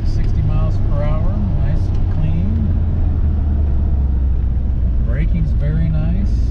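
A 1982 Corvette Collectors Edition with T-tops accelerating on a test drive, its engine a loud, steady low drone with rising tones, heard from the cabin beneath someone talking.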